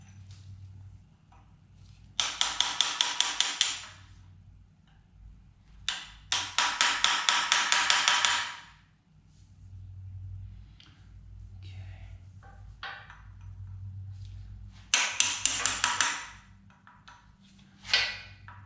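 A big chisel hammered against old lock tab washers on a P3 rear axle, heard as several bursts of rapid ringing metallic taps, close and sharp, separated by quieter pauses with faint background hum.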